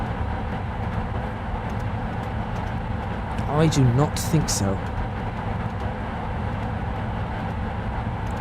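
A train in Trainz Railroad Simulator 2019, running on the Edinburgh to Dundee line, gives a steady rolling rumble throughout, with someone talking briefly over it midway.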